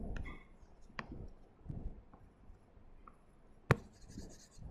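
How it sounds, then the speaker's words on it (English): A board in a lecture room being erased, heard as soft scratchy rubbing strokes in separate bursts, with one sharp knock near the end. "So let me erase these."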